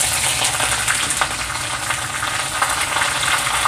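Chopped green chillies frying in hot oil with garlic-ginger paste, a dense steady sizzle with faint stirring ticks throughout, loud and close with no voices.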